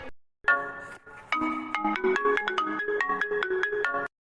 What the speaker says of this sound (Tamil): அம்மா உனக்கு ஃபோன் வருது.